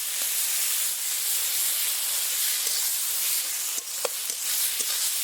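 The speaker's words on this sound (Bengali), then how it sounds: "এবার আমি এর মধ্যে দিয়ে দেব স্বাদ মতো লবণ, হলুদ আর লঙ্কার গুঁড়ো। খুব ভালো করে আবারও একসঙ্গে কষিয়ে নেব।" Salt, turmeric and chili powder fry in hot oil with the spice base for duck curry, giving a steady, close hiss and sizzle with a few light clicks of stirring.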